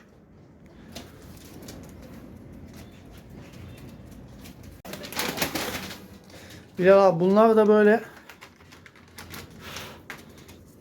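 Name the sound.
pigeons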